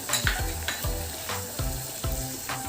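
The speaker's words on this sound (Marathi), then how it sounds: "या भाज्या देखील आपण साधारण दोन ते तीन मिनिटे तेलामध्ये परतून घेणार आहोत" Finely chopped carrots, beans and cabbage sautéing in oil in a pan. A constant crackling sizzle sits under repeated rhythmic scrapes of a spatula, close and clear, with no speech.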